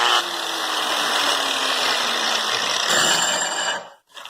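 An angle grinder fitted with a HERZO dust shroud spins up and runs with a steady whine for about four seconds, then shuts off abruptly; no speech.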